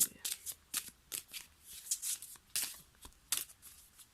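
Tarot cards are shuffled and drawn by hand, giving quick papery riffles and soft slaps in uneven bursts, close and fairly quiet.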